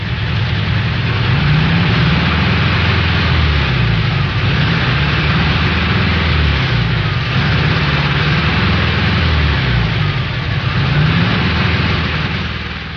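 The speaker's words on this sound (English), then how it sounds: "engine with a high RPM miss." Volkswagen engine with a high RPM miss, revving at speed with a loud, continuous mechanical roar and a faintly wavering pitch that rises and dips in slow cycles, heard close and alone.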